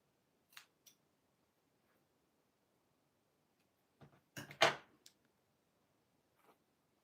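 Scissors snip through paper: two small snips, a pause, then a louder cluster of cuts close by in a quiet room.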